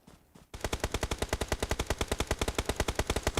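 An automatic weapon in PUBG Mobile, during a pro league esports match, fires a rapid, evenly spaced stream of roughly thirty loud shots that starts abruptly after a brief quiet lead-in.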